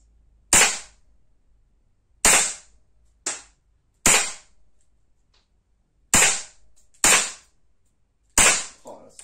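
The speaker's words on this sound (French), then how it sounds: "Vous entendez, je tire dans le bois là." Seven sharp shots from a Crosman PFAM9B CO2 blowback pistol crack out one by one at irregular intervals, each a short snapping report ending in a quick thud as the pellet hits wood.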